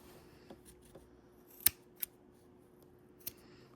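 Scissors snip away bulk from fabric binding in a quiet sewing room, a few soft cuts followed by two crisp, distinct snips and one more a moment later.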